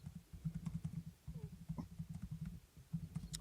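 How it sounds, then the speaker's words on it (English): Quick irregular keystrokes tap on a computer keyboard, a soft, close, steady patter of clicks with brief pauses. "I can hear Paul typing."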